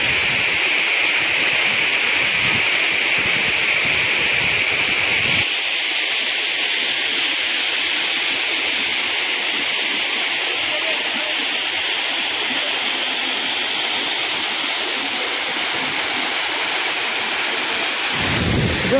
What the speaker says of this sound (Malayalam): മേളിയിൽ നിന്ന് തന്നെ ആ വെള്ളം വന്ന് ഇരിക്കുന്നതിൻ്റെ കാറ്റിൻ്റെ ശബ്ദം കണ്ടോ